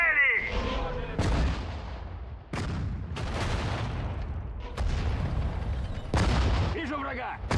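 Artillery barrages in the WWII strategy game Sudden Strike 4, Battle of Moscow: several loud, deep booms roll in one after another, under game voice callouts in Russian.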